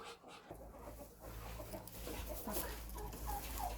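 Chickens in a farmyard cluck softly at low level against a steady low hum, with brief rustling and a few sharper calls toward the end; no speech.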